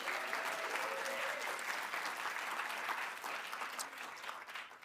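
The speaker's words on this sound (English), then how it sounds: "round of applause for them as well" An awards audience applauding a band, a thick, continuous roar of clapping from a sizeable crowd, loud and even before easing off slightly toward the end.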